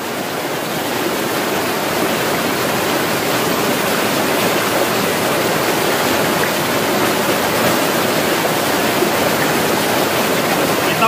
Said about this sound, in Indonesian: Di bawahnya sini ini ada aliran sungai.